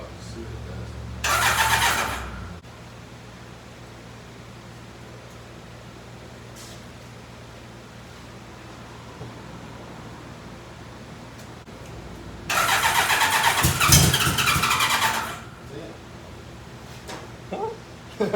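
A 1000cc trail buggy engine cranks on starting fluid with no fuel feed, giving two loud broadband bursts, a short one early and a longer one later, over a steady low hum with quiet gaps between.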